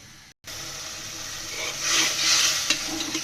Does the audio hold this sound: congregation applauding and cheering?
no